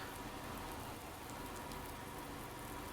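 Steady rain pours down in the Farming Simulator 19 farm game, a dense continuous hiss of drops on surfaces with no break and no talk.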